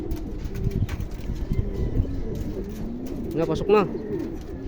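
Racing pigeons at a bird race coo in soft, rolling bursts close by, with one fuller coo near the end, while someone talks briefly over them.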